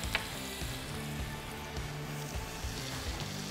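Minced garlic from a jar frying in a cast iron pan, a close, steady crackling sizzle with occasional stirring scrapes, alone and continuous.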